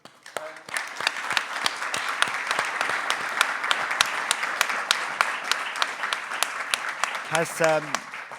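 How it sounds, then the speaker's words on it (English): Sustained audience applause for a speaker at a European telecommunications conference, a dense steady wash of many hands with sharper claps near the front and a brief voice near the end. "I would like to applaud the speaker"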